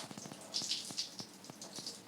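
Water runs and splashes quietly while colour-dyed hair is rinsed, a faint trickling stream broken by soft irregular drips and splashes, with no talking.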